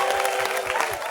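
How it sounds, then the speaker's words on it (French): A church congregation at a morning devotion claps in quick rhythmic bursts, steady and fairly close, with a sustained tone running underneath. "Acclamez très très fort pour Jésus"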